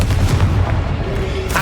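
A Confringo fire spell blasting in the Hogwarts Legacy video game, a loud, dense, rumbling boom that fills the whole short moment with heavy low-end roar.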